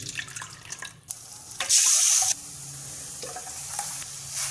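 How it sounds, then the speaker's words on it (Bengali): Milk pours into a hot pan of fried cashews and bay leaf, a loud hiss bursting up for about a second over the softer sizzle and stirring that fills the rest. "এবার আমি দুধ দিয়ে দিচ্ছি"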